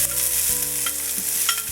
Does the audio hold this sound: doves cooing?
no